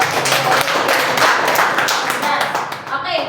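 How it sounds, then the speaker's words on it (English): Students in a classroom applaud together for their group, a dense burst of clapping that continues steadily for a few seconds at close range, thinning slightly near the end. "so let's give a round of applause for ourselves"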